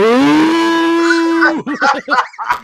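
A person imitates a cow's moo with one long, loud, drawn-out voiced call, followed by a few short vocal bursts close to the mic.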